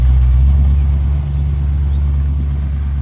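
An Ultima GTR car pulls away with a deep, loud engine rumble that holds steady and slowly eases as it moves off.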